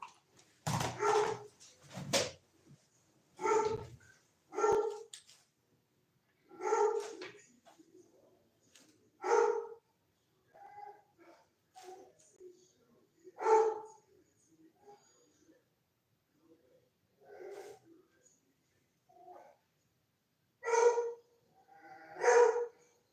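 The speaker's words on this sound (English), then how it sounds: "Let me see what this dog is barking at." A dog in a backyard barks in repeated short bursts of one to three barks, spaced irregularly and fairly close, with some whimpering between them.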